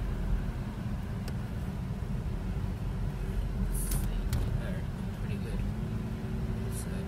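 A car drives through thick fog with a constant low road and engine rumble filling the interior, steady and unbroken, with faint scattered clicks above it.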